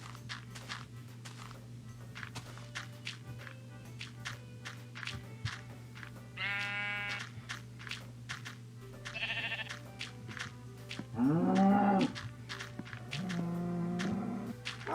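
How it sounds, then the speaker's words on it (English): Minecraft sheep bleating a few times over a steady low in-game hum and soft blocky footsteps, the short wavering bleats clear and close, with no speech. "That's a sheep."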